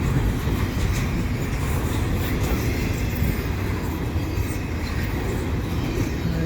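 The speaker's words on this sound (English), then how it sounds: "so didn't have to wait at all for this train." A CP mixed freight train passes close by at Marshall Avenue, a loud, steady rumble of rolling wheels and cars that fills the whole stretch without letting up.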